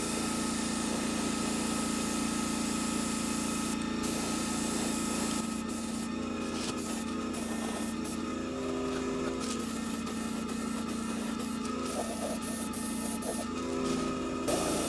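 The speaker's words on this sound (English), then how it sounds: "Let's begin spraying our fin." A steady hiss of spray paint on a model rocket fin, with a low mechanical hum underneath, continuing evenly with short breaks in the spraying.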